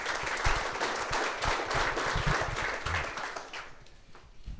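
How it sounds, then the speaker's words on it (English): Audience applause at a soccer press conference, a steady round of clapping from a modest crowd lasting several seconds before thinning out, with faint voices underneath. "Let's give him a clap."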